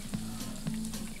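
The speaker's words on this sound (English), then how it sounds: "You watch that steak, or that hamburger, you make sure it cooks good." Hamburger patty frying on a stove in the cooking video game Overcooked, a steady close sizzle with a few brief louder pops, no talk.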